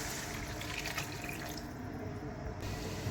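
Tamarind water pours steadily into a pot of Tamil-style fish curry, a continuous close liquid splash and trickle with no talking.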